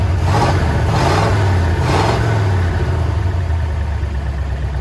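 A 1932 Chevy hot rod engine, built in the 1960s and long unused, idles steadily with a low, constant rumble, slight fluctuations in revs near the start, close and loud throughout.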